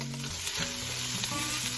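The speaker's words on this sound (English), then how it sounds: "To our pan, we're going to add in that bacon and the sausage." Bacon and sausage sautéing in a soup pot for Zuppa Toscana, a steady dense sizzle with faint stirring, close and constant, no voices.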